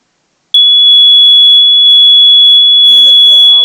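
A Simplex fire alarm sounds during a test, a loud steady high-pitched tone holding for about three seconds after a silent start, with a voice talking over it near the end.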